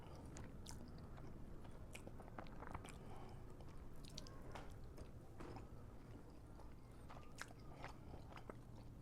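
Someone eats smoked Riga sprats up close. The faint bites and chewing come with crunchy, wet squishes and occasional rustles that repeat irregularly, and there is no talk.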